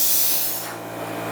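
A Best Arc plasma cutter running on 240 volts gives a loud, steady hissing spray of air and arc that fades slightly partway through, close and without voices.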